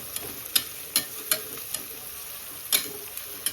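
Onions browning in hot oil with whole spices for chicken biryani, a soft steady sizzle broken by sharp, irregular clicks and taps of a stirring utensil against the pan, close and fairly quiet.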